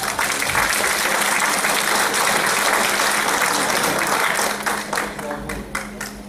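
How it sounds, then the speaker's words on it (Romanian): An audience applauds at an anniversary stage show in Vulcan, Hunedoara: dense, sustained clapping fills the hall and fades slightly toward the end. "Anastasia, să aplaudăm!"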